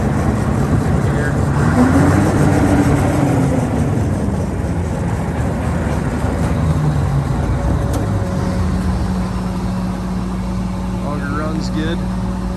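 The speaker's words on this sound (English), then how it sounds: "Auger's running there." John Deere 7720 combine running with its auger turning, a steady low mechanical drone and rumble throughout, with a faint higher whine; a person talks over it at times.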